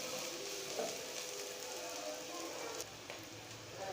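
Whole coriander seeds and a few dried red chillies fry in hot oil for a korma, giving a steady close sizzle and crackle with no voices.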